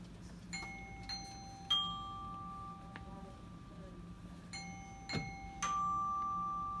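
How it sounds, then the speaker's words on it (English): A student strikes notes on a bell kit in a classroom lesson: several clear metallic tones, some single and some in quick pairs, each ringing out and decaying, with a bright sustained note near the end. "Davis, how would we do this on a bell kit?"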